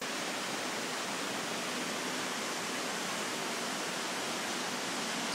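Steady, even rushing of water from a waterfall inside a cave, a constant broadband hiss with no breaks, moderately faint and heard without any talking.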